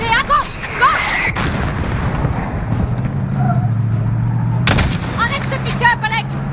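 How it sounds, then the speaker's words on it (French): Gunfire aimed at a pickup truck in the Call of Duty Modern Warfare video game: sharp shots and booms punctuate a dense battle soundscape with a low rumbling drone, while shouted voices call out over the action. "Tire sur le pick-up, tout de suite!"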